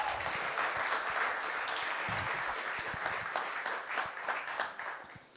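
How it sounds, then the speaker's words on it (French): An audience applauding Caroline, a design prize winner, at an innovation award ceremony: dense, steady clapping from a room full of people, fading slightly toward the end. "on applaudit quand même Caroline"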